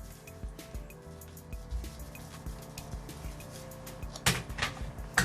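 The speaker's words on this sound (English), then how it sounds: "I rinse my brush a little bit." A brush is rinsed in water, giving soft, close splashes, drips and light taps that come and go, ending in a brief louder swish.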